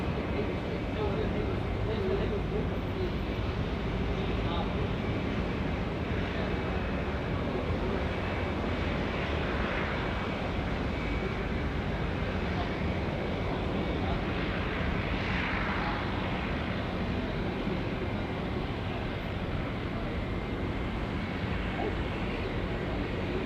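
A steady, loud roar from an Airbus A320 jet taxiing toward the northern end of the field at Auckland Airport, New Zealand, fills the scene continuously at a distance, with wind and broadband engine rumble throughout.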